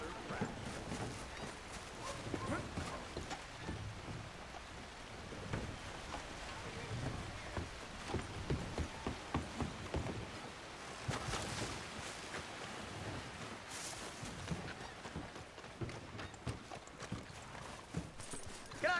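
Horses' hooves clip-clopping at a steady walking rhythm in Red Dead Redemption 2, close and continuous under ambient outdoor game sound, with voices talking intermittently over the hoofbeats.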